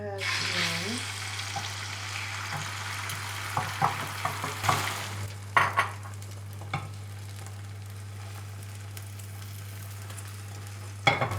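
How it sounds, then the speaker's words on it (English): An egg hits hot oil in a pan for Chinese shredded noodles, giving a loud sizzle at first that settles into steady frying crackle, with a few sharp clinks and stirring knocks along the way. "Pan is hot, and then add the egg in"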